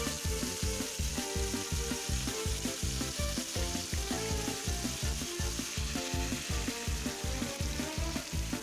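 Pork ribs sizzle loudly in a pan as sauce is added, a dense steady frying hiss layered with rhythmic stirring or scraping knocks repeating throughout.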